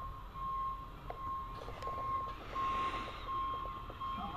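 A truck reversing beeps in a steady, evenly spaced series of moderately loud tones, heard outdoors over a constant background rumble with no talking.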